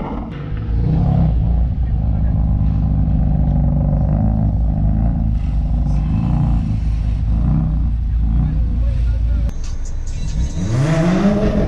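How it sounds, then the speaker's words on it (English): Sports car engines at a line-up of kit cars such as a Dax Rush, Caterham, Westfield and Marlin, idling with rising revs and a final loud rev, with people talking over it. "give it some revs for me, bro."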